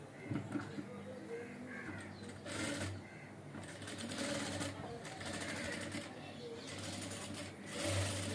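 Electric sewing machine stitching cloth for an umbrella frock, running in steady whirring bursts with short pauses, fairly close, with bird calls and faint voices in the background.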